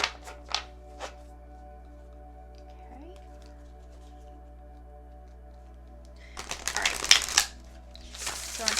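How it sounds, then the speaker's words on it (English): Tarot cards are shuffled by hand in several quick riffling bursts, a few short ones at the start and a longer, louder run near the end, over a faint steady hum. "so we'll get started shuffling."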